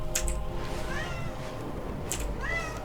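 A domestic cat meows twice at a bathroom door, each call a rising, drawn-out cry set against a steady background hum, close and clear with no talking.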